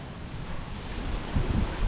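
Strong ocean surf rolls at a beach in El Nido, Philippines, a steady wash of waves mixed with gusty wind buffeting the microphone, with a heavier surge near the end and no voices.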